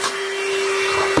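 A VacLife VL189 handheld vacuum cleaner runs steadily and close, a loud continuous motor whine with airy hiss that holds evenly for over a second before cutting off abruptly.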